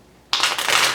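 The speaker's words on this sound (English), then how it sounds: "get the cards shuffling to the next part." Tarot cards are shuffled by hand in a single brisk riffling burst that begins after a moment of quiet, close and crisp with rapid papery flutters.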